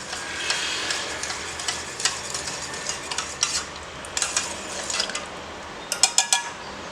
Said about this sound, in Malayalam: അതിൽ ഒരു ചെറിയ ടേബിൾ സ്പൂണ്, വളരെ ചെറിയൊരു ടേബിൾ സ്പൂണ് ഇതിലേക്ക് ഞാൻ ചേർത്ത് നന്നായിട്ട് മിക്സ് ചെയ്യുവാണ്